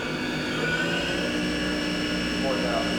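A Haas CNC toolroom mill spindle spins at high RPM, giving a steady whining hum with layered tonal harmonics that holds even and continuous throughout.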